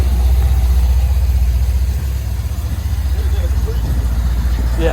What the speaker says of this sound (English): That's a 16 Chevy Caprice, long tube headers. And all we did was put mufflers on it, the BORLAs.